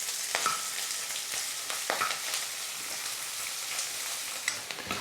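Chopped onion and curry leaves sizzle and crackle in hot oil for a Tamil beans poriyal, a steady close frying hiss broken by sharp pops and occasional stirring scrapes.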